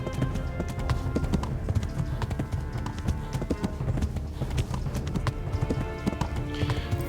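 Horse hooves clip-clopping in the video game Kingdom Come Deliverance, a steady rapid trotting rhythm, close and continuous, over game ambience.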